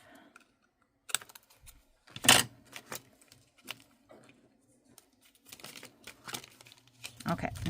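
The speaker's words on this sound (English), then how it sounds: "So just get in there and trim that off." Cardstock being trimmed for an A2 tuxedo fold box: sparse, close snips and crisp paper rustles arrive in scattered bursts separated by quiet pauses.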